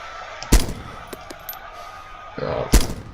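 Two sharp gunshots ring out in the ArmA2 OA video game during a night operation, each a loud crack with a short tail, spaced about two seconds apart with faint clicks between them.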